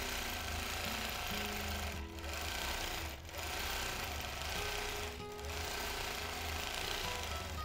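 A sewing machine quilts on a vintage gem quilt, stitching down a seam allowance with a loud, continuous motor drone broken by three short pauses.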